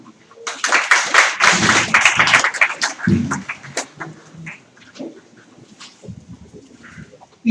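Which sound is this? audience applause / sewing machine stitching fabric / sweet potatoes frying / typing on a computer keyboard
audience applause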